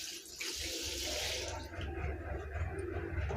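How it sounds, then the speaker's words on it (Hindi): Rice being washed under running tap water in a home kitchen sink: a steady close rush of flowing water with splashing and swirling, continuous throughout with no talking. "तो यहाँ पे मैं धो ले रही हूँ चावल।"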